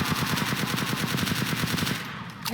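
Rapid, evenly spaced AK-47 bursts ring out in the Zombie Tower video game, a steady stream of gunshots lasting over two seconds at moderate loudness with no voices.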